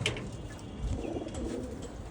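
Pigeons in a cage coo in low, throaty bursts, close and fairly loud, with a faint brief chirp above them.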